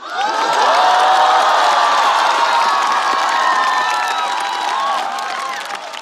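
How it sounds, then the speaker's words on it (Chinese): A large studio audience at a Chinese comedy roast show greets a comedian with loud, sustained cheering, whooping and shrill shouts over clapping, swelling early and then tapering slightly toward the end. "这么多掌声，都认识我？"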